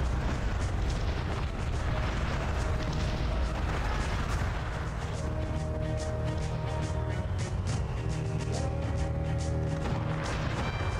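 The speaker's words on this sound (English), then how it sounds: "my cannons, especially the ship of the line, is just firing at them" Continuous rumbling booms and blasts from repeated ship cannon fire, including a ship of the line, in the strategy game Cossacks: Back to War, dense and loud, blending into a constant roar of battle noise with no pauses.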